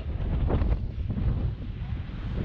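Steady wind buffeting the microphone in Morocco, a loud low rumble with gusty swells throughout and no clear talk.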